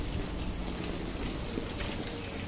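Heavy rain in Recife, Pernambuco falls in a dense, continuous hiss of drops on surfaces, steady and close throughout with no talking.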